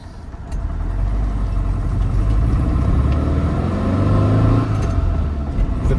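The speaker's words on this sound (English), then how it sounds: "get it out on the highway now, get it up to highway speeds, show you how it drives." A 1968 Porsche 912 Soft Window Targa in Irish Green cruising at highway speed, its engine giving a steady mid-pitched drone over road rumble and wind, constant and fairly close throughout.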